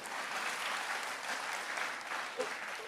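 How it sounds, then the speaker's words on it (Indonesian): Soft, distant audience applause at an Indonesian public talk featuring former president SBY: a steady wash of many hands clapping, fairly quiet and even throughout the moment. "Tepuk tangan Bapak Ibu sekalian."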